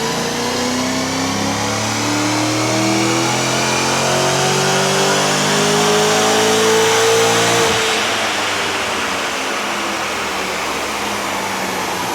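A Holden VE Clubsport V8 with a Stealth camshaft, CNC ported heads and triple step headers roars on a dyno, climbing in a long loud pull near eight seconds before the revs drop away.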